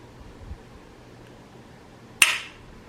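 A single sharp metallic click rings out near the end against quiet background hiss as a Timney Alpha trigger on a Glock pistol breaks.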